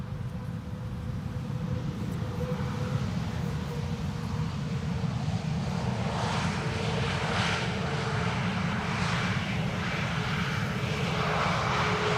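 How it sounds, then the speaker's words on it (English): A KLM Airbus A321neo airliner arriving on the Polderbaan runway at Amsterdam Schiphol, a loud steady jet engine roar that swells and rumbles throughout as the aircraft passes close by. "This is one of KLM's A321neos arriving from Persenchester, flight 1032."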